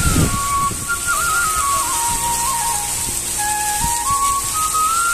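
Heavy rain falling in a village, a dense continuous hiss that stays loud and steady, with a wavering whistle-like tone running through it and no talking.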